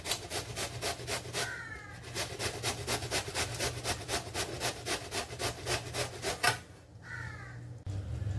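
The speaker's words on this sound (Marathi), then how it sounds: "आता हा किसून घेते मी किसणीवर।" Bottle gourd is rubbed against a hand grater in quick, regular rasping strokes, close and steady, with a brief pause before the scraping resumes.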